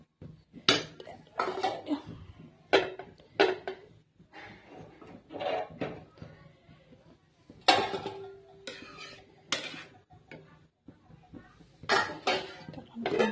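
Metal pot and utensil sounds come up close in a home kitchen: scattered clinks, scrapes and clanks, with a few sharper knocks that fit a lid being set on a cooking pot, spread over quiet pauses.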